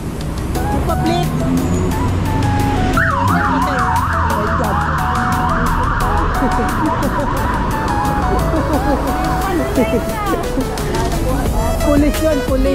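A police siren sweeps loudly along a busy city street in Hong Kong's Causeway Bay–Wanchai area, wailing steadily over traffic noise while people talk nearby.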